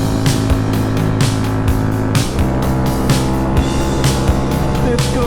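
A Honda Grom motorcycle ridden on a short trip to a coffee shop, its small engine droning steadily up close, with revs rising and falling between gear shifts and wind rushing past.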